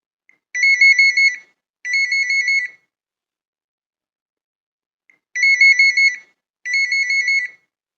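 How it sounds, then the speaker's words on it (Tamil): A mobile phone ringtone plays in two paired bursts of bright electronic trills, repeating after a pause, clean and alone against silence. "ஃபோன் அடிக்குது"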